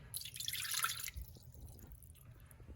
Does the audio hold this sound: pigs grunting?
no